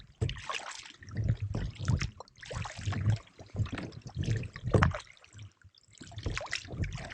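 Canoe paddle strokes dipping and pulling through calm water in a narrow swampy channel between two lakes in Killarney, a steady rhythm of close, soft splashes and trickles repeating every second or so.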